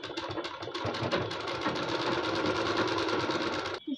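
Sewing machine running steadily for several seconds as it stitches a folded suit lining, a close, even motor whir with rapid needle chatter that cuts off at the end.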